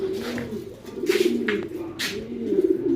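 Pure Jansen breed pigeons cooing close by, repeated soft throaty coos rising and falling in a steady rhythm across the clip, alone without talk.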